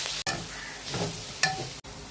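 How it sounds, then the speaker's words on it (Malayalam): Crushed shrimp and grated coconut fry in a pan for spinach thoran, giving a steady close sizzle with soft stirring scrapes and a brief sharp clink near the middle. "ഇതിലേക്ക് നമ്മൾ ചതച്ച് വെച്ച ചെമ്മീനും പീര അതെല്ലാം കൂടെ ഉള്ളതാണ്, അതൊന്നിട്ട് മൂപ്പിക്കുകയാണ്"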